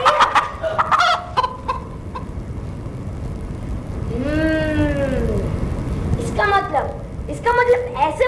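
Chicken-like clucking and a long, drawn-out crowing call rise amid loud talking during a stage science drama performance.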